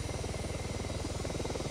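A helicopter in the ArmA 3 Apex game on the Tanoa map gives a steady, fast rotor chop with an even pulsing beat under a continuous engine whine, close and moderately loud, with no voices.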